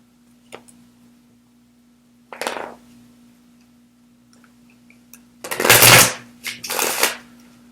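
Tarot cards shuffled in several short riffling bursts, the last two loud and close, separated by near silence with a faint steady hum beneath.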